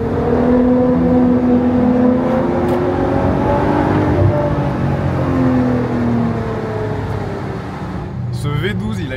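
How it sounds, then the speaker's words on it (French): Ferrari 812 Competizione V12 coupé driving along the Route Napoléon, heard from inside the cabin with a window slightly open: a loud, continuous engine drone whose harmonics rise and fall with the revs. "Ce V12 il a une résonance"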